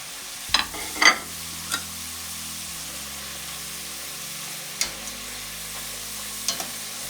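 Chips fry in hot oil with a steady close sizzle as a spider pushes them down, adding a few sharp clinks and scrapes early on and occasional soft knocks later.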